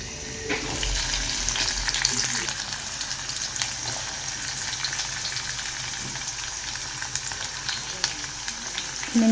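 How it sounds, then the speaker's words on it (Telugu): Onion, tomato, pounded garlic and coriander frying in oil in a home kitchen give a steady crackling sizzle with intermittent stirring scrapes, close and continuous without talk. "కొత్తిమీర వెల్లుల్లిపాయ దంచి పెట్టుకున్నాను అది కూడా వేసుకుంటున్నా ఆనియన్ టమాటా"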